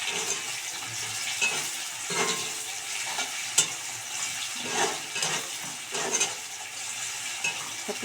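Onions fry in a pan on their way to becoming birista for an egg malai curry, giving a steady close sizzle broken by repeated scraping stirs and light utensil clinks, with no talking.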